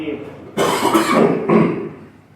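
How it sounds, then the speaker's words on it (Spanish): Two firm, forceful coughs in quick succession, close to the microphone, followed by a brief quiet breath. "Voy a toser durito para tratar de no toser más."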